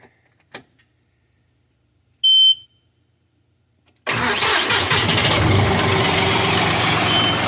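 After a few quiet clicks and a short beep, a tractor engine cranks and catches, settling into a loud, steady diesel roar.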